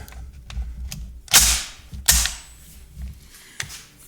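An M1 Garand rifle action being function tested gives several sharp metallic clacks and snaps, two loud close bolt slams spaced apart among smaller clicks of parts moving.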